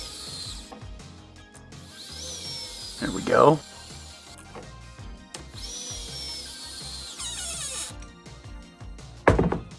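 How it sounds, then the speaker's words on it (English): A power tool drives screws slowly into a plastic RC car chassis in two long, steady whirring runs, with short knocks and handling clatter between them. A voice speaks a brief phrase near the end. "nice and slow with the power tools so you don't melt the threads in the plastic"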